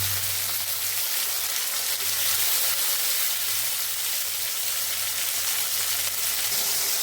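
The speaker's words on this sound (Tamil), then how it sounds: "நம்ம எடுத்து வச்சுக்கிற தக்காளியை அதில் போட்டுடலாம்" Tomatoes tossed into onions frying in a pan for a chicken gravy, a steady close hiss of sizzling that holds evenly throughout with no talking.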